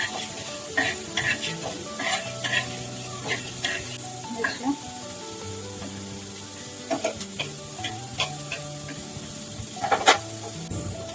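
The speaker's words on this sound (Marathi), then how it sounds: "खोबरं टाकून घेऊया, खोबरं भाजायचं. भाजून घेऊया." Grated coconut roasting in a pan for a spicy mutton curry masala, with a quiet sizzle under repeated scraping stirs and clicks over a soft musical background.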